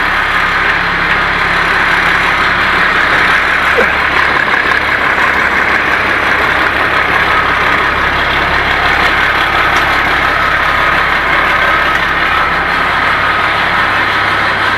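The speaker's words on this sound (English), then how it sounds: "This here's got a Cummins in it." A Cummins diesel engine idles steadily nearby, a loud, continuous low rumble with a constant mechanical drone and no change in speed throughout.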